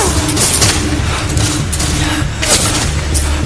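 Battlefield gunfire at Gettysburg, a dense fusillade of overlapping shots and booms crackling steadily, loud and close, with sharper bursts standing out at intervals.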